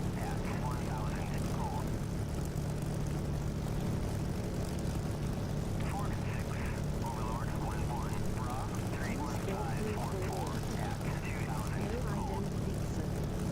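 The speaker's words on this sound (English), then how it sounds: "Did you lose the sound of the aircraft of the game?" In the DCS flight-simulator game, an aircraft engine gives a steady, moderately loud droning hum that runs throughout, with people talking over it now and then.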